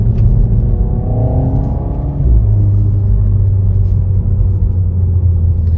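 A Renault Mégane 4 RS sports car exhaust rumbles deep and loud from close by, holding a steady throaty drone with a slight rise in pitch partway through.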